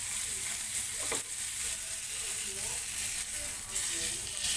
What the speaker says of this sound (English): Now we cook the other side